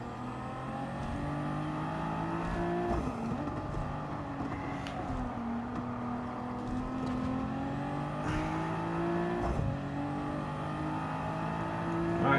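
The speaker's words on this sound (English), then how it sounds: "Off the throttle, let it roll a bit. Back on the throttle." Race car engine in the video game Gran Turismo 7 revs and accelerates, with pitch rising and falling as the throttle lifts and reapplies, several sharp shifts, steady and fairly loud, with no talk.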